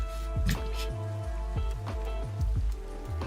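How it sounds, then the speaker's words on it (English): Steady rain falls at East Lake Axwell in a Pokemon video game, a continuous hiss with a few soft, low, recurring thumps and tones mixed in. "East Lake Axwell, it's raining."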